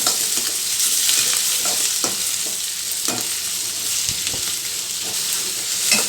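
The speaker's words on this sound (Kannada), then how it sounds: "ಒಣ ಕೊಬ್ಬರಿ ಒಂದು ಸ್ವಲ್ಪ ಟೊಮೊಟೊ ಇದೆಲ್ಲ ಚೆನ್ನಾಗಿ ಸ್ವಲ್ಪ ಫ್ರೈ ಆಗಬೇಕು" Dry coconut and tomato fry in a hot pan, a steady broadband sizzle broken by scraping strokes of a spoon stirring throughout, close and continuous with no talking.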